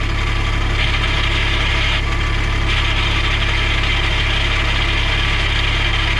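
A 2010 Cushman Truckster diesel utility vehicle with a dump body idles loudly and steadily up close as the clutch is pressed and it is shifted into reverse, with a brief grinding whine rising over the drone.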